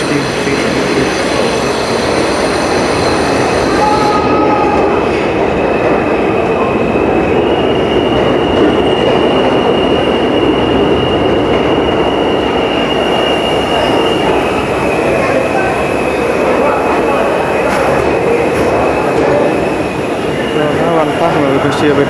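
A New York City C subway train pulls out of the 163rd Street–Amsterdam Avenue station, a loud, continuous rumble of rail cars with wheel squeal and a steady roar that holds through the clip, heard from the platform.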